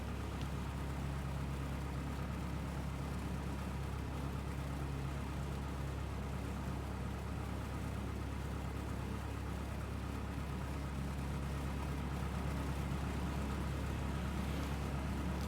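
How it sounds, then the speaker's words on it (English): A Cessna 172 engine runs steadily in a flight simulator, a constant droning hum that stays even and unbroken throughout. "And the engine is running."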